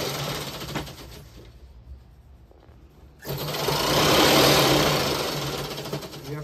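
A sewing machine stitches pieces of old gown fabric together into a quilt, its steady mechanical whir running loud, pausing briefly in the middle, then resuming even louder.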